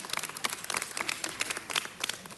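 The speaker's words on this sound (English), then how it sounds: "a round of applause" An audience applauds a person introduced in the crowd, with quiet, dense clapping that runs steadily through the short stretch and no speech over it.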